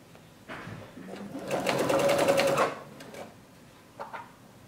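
Sewing machine stitching thick denim with a size 100 needle, a fast rapid-fire burst of mechanical stitching lasting about a second, with quieter clicks and handling before and after.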